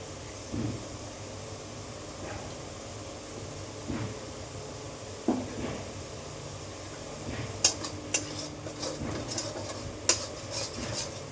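Rice being stirred and fried in a pan with potatoes and pointed gourd, soft scraping and sizzling with scattered utensil clicks and taps that grow busier toward the end, fairly quiet and close.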